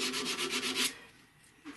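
Abrasive paper at 220 grit rubs back and forth on a German silver flintlock pistol part, a quick series of close, raspy strokes lasting under a second, then quiet.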